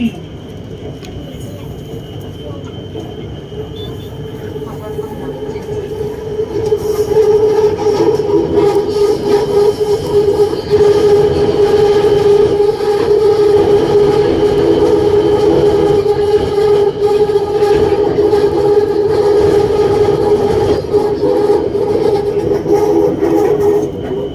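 A BTS Skytrain in Bangkok rounds a curve between Saint Louis and Chong Nonsi stations, its steady rail rumble swelling at about seven seconds into a loud, sustained wheel squeal with tonal whines that last to the end.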